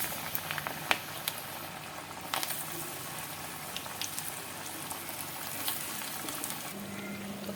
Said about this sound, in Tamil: இப்போ நம்ம வந்து வடையாக நம்ம வந்து தட்டி எண்ணெயில் போட்டு பொரிச்சிக்கலாம்